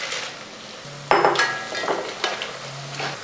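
Pieces of an evening snack fry in hot oil, with a soft bubbling sizzle broken by a sudden clatter and a few scraping knocks of a ladle against the pan.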